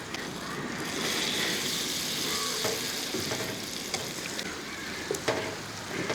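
About a hundred grams of butter melts in a hot pan for restaurant-style fried rice, sizzling with a steady close hiss and a few small pops and scrapes toward the end.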